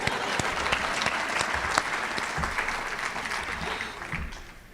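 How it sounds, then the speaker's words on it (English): A campus audience gives a sustained round of applause at a university State of the Campus address, with dense clapping that carries steadily for several seconds before tapering slightly. "Big round of applause right over here"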